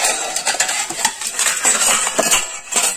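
Metal kadhai and utensils being handled outdoors in a forest while setting up a cooking fire, with irregular clanks, scrapes and clinks close by, several sharp knocks spread through the moment, no voices.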